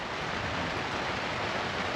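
Steady rain falls on a farm around lunchtime, a dense, even hiss with no breaks or distinct drops, fairly loud and constant throughout.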